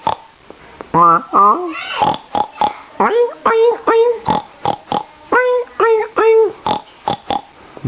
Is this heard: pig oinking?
yes